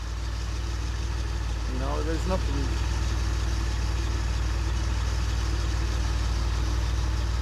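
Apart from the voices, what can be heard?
car engine idling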